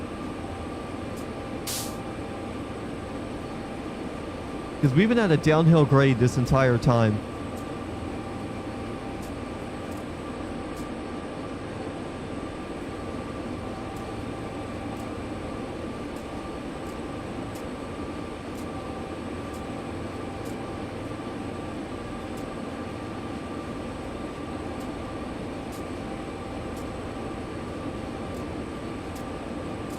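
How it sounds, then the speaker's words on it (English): Train from Train Sim World 5 on a downhill grade, a steady low rumbling drone that runs the whole time, with a short burst of someone talking partway through. "I'm gonna stay going slow here just so I have a chance to actually stop this damn train"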